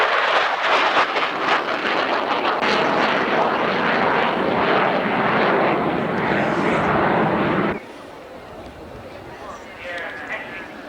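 A military jet at an airshow roars loudly overhead as a broad, rushing engine blast that fills the air for several seconds, then cuts to a quieter distant rumble, with a commentator talking over it.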